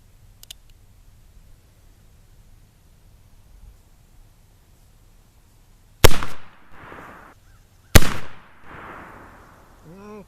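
A self-defense pistol fires its last two rounds, two sharp, loud cracks about two seconds apart, each trailed by a brief echo, after a quiet stretch.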